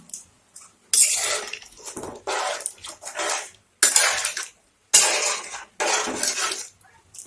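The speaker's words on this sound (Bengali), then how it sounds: "এখন আমি জল দিয়ে দেবো।" Water is poured into a hot pan of spiced fried potatoes, producing several loud bursts of hissing, splashing sizzle separated by short near-silent gaps, with no talking.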